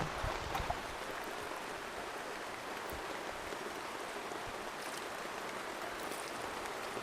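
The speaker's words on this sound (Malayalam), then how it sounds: "നല്ല മഴയായി പോയി" Heavy rain falls in a dense, steady wash of hiss and patter that holds evenly throughout, moderately loud with no voices.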